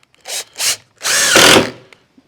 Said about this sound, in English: I'm only putting a few screws right now to hold it.